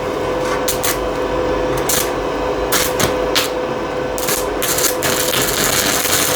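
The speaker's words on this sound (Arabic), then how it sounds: "شايف اول ما تبدا تلحم معاك المكنه الله اكبر عليها" A REMO MMA-300 stick welding machine welds with a continuous close crackling buzz, broken by short bursts of sharper sizzle.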